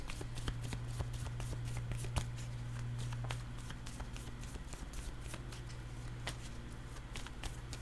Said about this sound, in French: Je vais piger une carte image sur attirant.